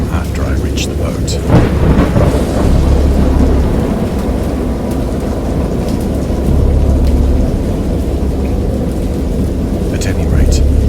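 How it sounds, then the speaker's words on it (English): A wild thunderstorm, heavy rain pouring steadily while deep thunder rumbles and cracks roll through at intervals, loud and close throughout, with no voices. "I heard pearls of thunder and other tones which nature utters only in her wildest moods"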